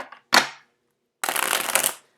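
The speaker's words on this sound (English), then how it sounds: "Let me get the cards shuffled out very quickly." Tarot cards being shuffled in quick riffling bursts: a short brisk flutter, a pause, then a longer crisp shuffle of about three-quarters of a second, close and clear with no talk.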